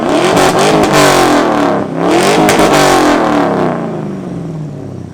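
2000 Chevrolet Camaro with a modified exhaust and no cutout revs hard at an exhaust competition, loud and close, two long rising roars with a brief dip between them before the engine settles back down.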